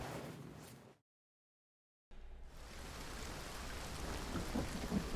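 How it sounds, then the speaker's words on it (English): Heavy rain pours steadily with low rolling thunder in the game Hunt: Showdown, broken by a second of total silence before the downpour resumes, loud and close. "And now we have the rain"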